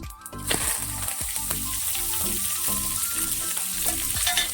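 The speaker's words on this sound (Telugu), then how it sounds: "ఎర్రగడ్డ, ఒట్టిమిరపకాయ, కరివేపాకు వేసేసుకుందాం తిరగబాతలోకి" Chopped onion, dried red chilies and curry leaves crackle and sizzle steadily in hot oil for a tempering, a loud continuous frying hiss with a sharp burst as they hit the pan, no talking.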